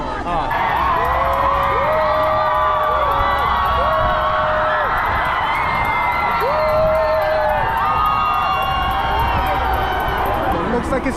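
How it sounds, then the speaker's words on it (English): Dense street crowd in Korea cheering and whooping in celebration, loud and continuous throughout, with rising shouts and a few excited voices standing out from the steady roar. "Everyone's cheering."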